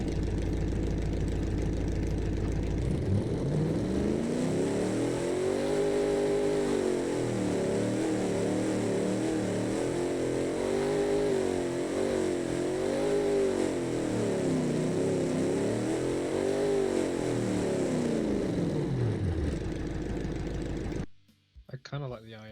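A car engine fires up and settles into a loud, lumpy idle with a rhythmic, rising and falling rumble that continues steadily for about twenty seconds before cutting off.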